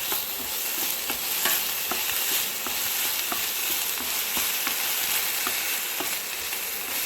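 Chicken pieces for a salad frying in a pan, a dense, steady sizzle and crackle with small regular ticks from stirring, close and fairly loud throughout with no voices.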